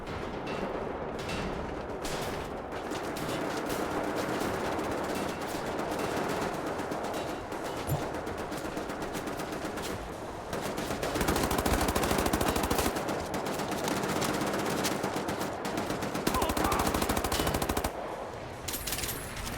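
Sustained automatic gunfire in the first-person shooter Wolfenstein The New Order, with rapid machine-gun bursts and blasts rattling almost nonstop for about twenty seconds, loud and close, growing heavier in a few stretches.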